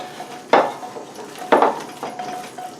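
A meatball mixture seasoned with salt and pepper is mixed in a bowl: a few distinct knocks and clunks of a utensil against the bowl about a second apart, between softer shuffling, close by with no voices.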